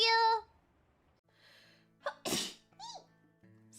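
Someone lets out a single loud, close sneeze, sharp and explosive, with a brief inhale before it and a voice heard before and after.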